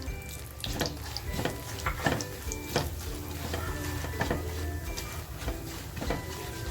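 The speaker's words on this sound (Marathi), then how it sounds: "तेलात मसाला फ्राय केला ना की भाजीला कलर अप्रतिम येतो" Homemade masala spices frying in hot oil, an even crackling sizzle with spatula scrapes and light taps against the pan at a steady pace, close up and without talk.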